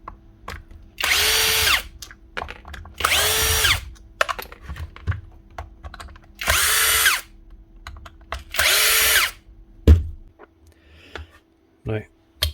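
A power drill backs screws out of a Metabo KHE 5-40 rotary hammer housing in four loud, close bursts of whirring, each about a second long, separated by quiet clicks and handling noises, with brief talk later.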